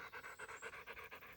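A dog pants rapidly and steadily in short rhythmic breaths, close but fairly quiet, with no talking.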